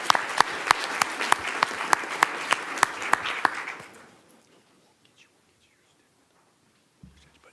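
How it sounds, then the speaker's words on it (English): Audience applause at a school board meeting honoring a student football player, a crowd clapping steadily with some sharp nearby claps, then fading out to near silence with a faint bump at the end. "If we give him a big round of applause."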